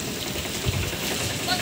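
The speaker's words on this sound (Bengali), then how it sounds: "জোরে বৃষ্টি নেমে পড়েছে" Heavy rain pours down outdoors in a flooded village area, a loud, continuous broadband wash of falling water with faint voices mixed in.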